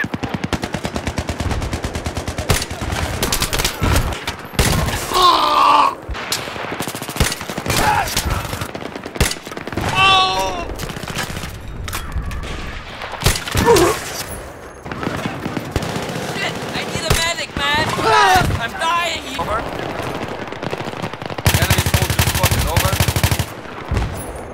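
Machine guns fire in Battlefield 3 in loud, rapid bursts separated by short pauses, with scattered single shots and brief in-game voice callouts mixed among the gunfire.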